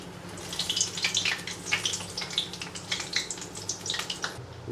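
Gram flour muthiya frying slowly in ghee over a low flame, a steady soft sizzle and crackle with scattered bubbling pops, close and continuous with no talking.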